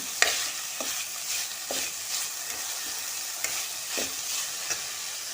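Wild vine greens from the ghotyachi vel plant being sautéed with onion in a pan, giving a steady soft sizzle broken by regular spatula scrapes and stirring knocks, close and alone with no talking.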